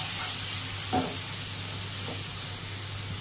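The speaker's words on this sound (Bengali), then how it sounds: "এবার ভালো করে এটা কষিয়ে নিতে হবে।" Spice paste frying and being stirred in a pan with a splash of water and salt, a steady soft sizzle with a few faint scraping strokes, close and alone.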